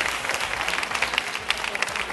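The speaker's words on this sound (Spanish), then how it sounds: "Un aplauso para el juez José Luis Utrera." Dense audience applause for judge José Luis Utrera in a television studio, a steady wash of many hands clapping at once, loud and continuous with no talk over it.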